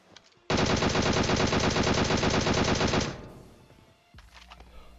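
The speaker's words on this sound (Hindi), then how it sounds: "तो मैं भी गोलियां पेलता हूं।" Sustained automatic gunfire in PUBG Mobile, a loud rapid burst of shots lasting about two and a half seconds, then fading into quieter in-game ambience with faint movement.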